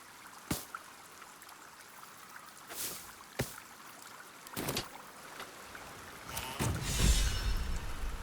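Video game waves of water lap and trickle softly, with a few brief splashy bursts, then swell louder toward the end. No one speaks.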